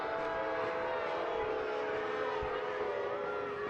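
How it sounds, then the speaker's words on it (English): A referee's whistle blows to stop play at a professional soccer match, a steady sustained tone over loud, continuous stadium crowd noise. "the referee blows the whistle to stop the play"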